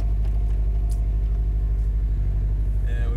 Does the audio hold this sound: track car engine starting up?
yes